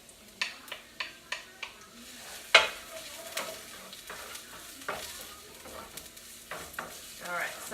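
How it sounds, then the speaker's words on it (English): Onion and garlic frying in a pan on the stove for vegan jackfruit pulled pork: a run of sharp utensil taps, then a steady, moderate sizzle with occasional stirring clicks. "So let's add the onion and garlic here."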